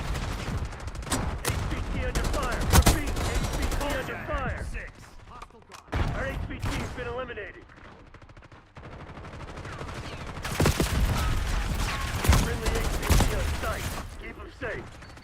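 Video-game gunfire in a firefight around a high-value target under attack: loud, close bursts of automatic fire and single sharp shots, coming in clusters with short pauses over about fifteen seconds.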